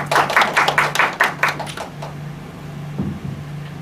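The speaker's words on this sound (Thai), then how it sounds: "เสียงปรบมือให้คุณเอมี่ครับผม" Brief applause for a participant at a team coaching-skills training session: a handful of people clap in a quick, close burst that thins out within two seconds, followed by a quiet room with a low hum.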